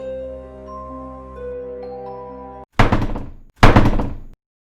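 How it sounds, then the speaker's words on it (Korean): A sustained tonal musical passage gives way to two loud, close bangs on a door in a spooky cartoon horror story, a short gap between them before silence. "또 문소리가 나네?"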